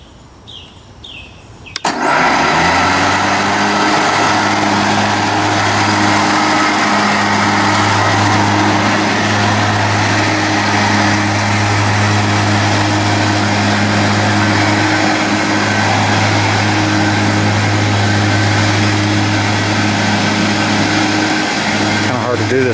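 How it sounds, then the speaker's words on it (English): A remote control riding lawn mower starts up with its mower deck engaged, then drones loudly and steadily with a strong low hum and sustained engine roar close by for about twenty seconds. "now let's try it with the mower deck running"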